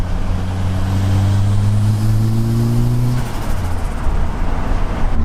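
Ford RS Turbo, freshly rebuilt, heard from inside while driving: a loud steady engine drone with rising tones that cut off abruptly, followed by a rougher fluttering rush as the turbo spools down.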